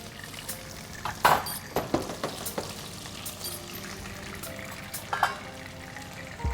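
Onion frying in hot oil, a steady close sizzle broken by a few louder crackles and spits as pieces hit the pan, with no one talking.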